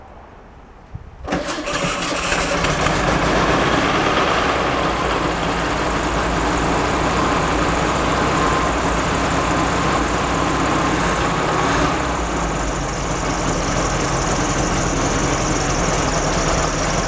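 A 1954 VW Beetle engine cranks briefly and catches, then settles into a steady, loud idle that runs on without a break, outdoors in a light breeze.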